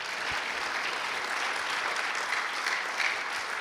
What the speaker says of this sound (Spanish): Dele un aplauso al Señor si lo cree.